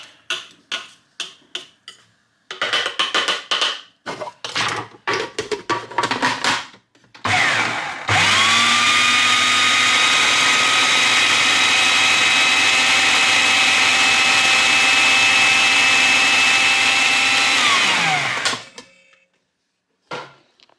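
A blender or food processor chops carrots for a shepherd's pie, whirring loud and steady for about ten seconds before spinning down, after scattered knocks and clatter as it is handled.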